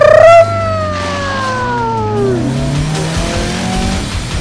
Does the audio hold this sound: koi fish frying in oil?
no